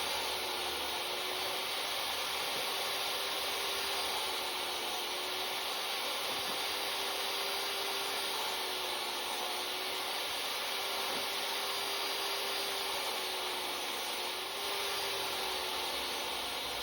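A table saw blade scores lines into a plywood shelf, a steady, loud, whining drone that holds without pause throughout.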